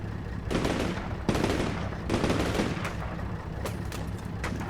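Sustained machine-gun fire in the tactical war game Combat Mission Shock Force 2, a loud, rapid rattle of bursts at close range broken by brief pauses, with sharp cracks and scattered distant reports behind it.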